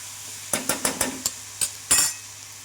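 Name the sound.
stirring garlic chili masala in a pan for corn sabji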